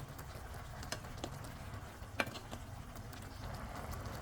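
Chicken hamonado simmering in a pan of sweet sauce, a faint steady sizzle with a few soft clicks of a utensil as sauce is spooned over the top.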